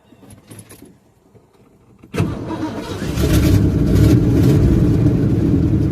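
A stalled car engine with a suspected clutch or throwout-bearing fault cranks and fires back up, catching around two seconds in and settling into a loud, steady idle close by; no one speaks.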